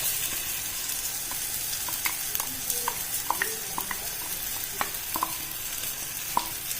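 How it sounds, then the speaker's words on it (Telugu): Ground masala paste frying in oil while being stirred, a steady sizzle broken by irregular scraping and tapping of a spoon against the pan, close up with no talking. "ఇలా మిక్స్ చేసుకుంటూనే ఫ్రై చేసుకోవాలండి"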